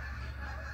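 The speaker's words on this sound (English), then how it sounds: "A flock of geese flying overhead." A flock of geese honks overhead outdoors on a cloudy day, their calls steady and moderately distant over a continuous low background rumble, with no talk.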